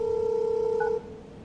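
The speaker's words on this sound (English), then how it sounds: "So this is how to make a phone call." A network intercom panel places a phone call, emitting a steady electronic dial or ringback tone that holds for about a second with a brief higher beep, then cuts off to quiet room hum.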